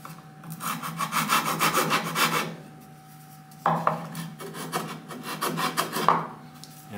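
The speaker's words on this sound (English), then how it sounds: "I just have some sanding blocks from scrap that I contact adhesive some 120 grit sandpaper to, and I'll just hit these" Rhythmic rasping strokes of 120 grit sandpaper on scrap-wood blocks sweep across a wooden Telecaster-style guitar body in two close passes, separated by a brief pause.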